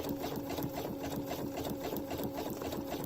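Sewing machine running a straight stitch to attach ribbon hole trim onto fabric, a steady rapid mechanical whirr with fast regular needle clatter, close and continuous without speech.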